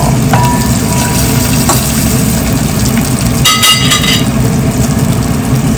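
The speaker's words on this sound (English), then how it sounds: "a little bit noisy of this exhaust fan" Steady, loud broadband whir of a kitchen exhaust fan running continuously while cooking cucumber curry, with faint clinks of kitchen activity mixed in.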